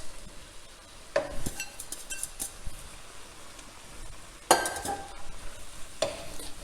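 Aubergine frying in a pan with peppers and onions gives a soft, steady sizzle, broken by a few sharp utensil scrapes and clinks as the vegetables are stirred.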